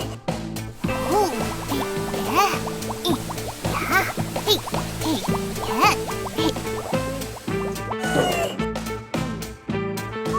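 Bubbly liquid sloshes and fizzes as it is added in a children's cartoon about a robot cleaning seaweed off a submarine, heard under steady, busy cartoon music throughout.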